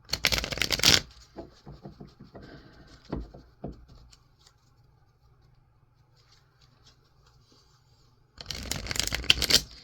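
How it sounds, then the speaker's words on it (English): Tarot cards shuffled by hand, dense crisp riffling bursts at the start and end with softer scattered card taps and slides between, close and alone. "Shuffle these cards."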